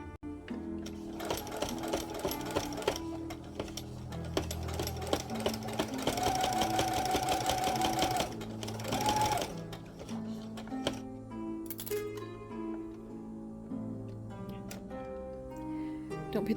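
A sewing machine stitches around the inside edge of a small quilted mug rug, a close steady mechanical whir with pauses at the corners, heard beneath background music.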